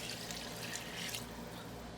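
Hot water pours in a steady stream into a pot of rice and chicken, a hissy, splashing wash that holds at an even level throughout, with no talking.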